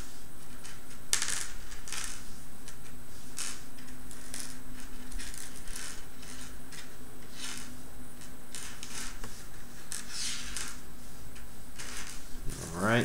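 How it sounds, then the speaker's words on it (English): Small metal screws, washers and hardware sorted by hand, giving repeated close clinks, rattles and scrapes in irregular bursts over a steady low hum. "I'm just kind of isolating the screws from everything else."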